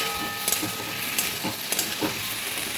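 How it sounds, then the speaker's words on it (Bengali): Tomatoes frying in a pan with salt and turmeric and no added water, giving a steady close sizzle and hiss with a few soft stirring scrapes. "এটার মধ্যে কোনো জল ফল দেবো না, ভাজতে থাকবো।"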